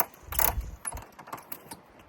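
Pressure washer hose reel in a mobile detailing setup retracting, a ratcheting mechanical clatter with a louder rattle at first, then a string of lighter clicks.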